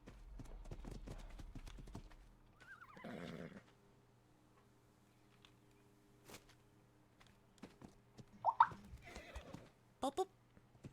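A horse's hooves clip-clop in a few quick bursts, with a brief whinny near the start and scattered clops later, close and fairly quiet with pauses between.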